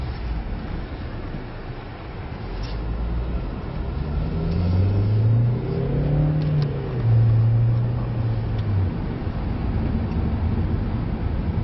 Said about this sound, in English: Let's go on a quick spin around the block.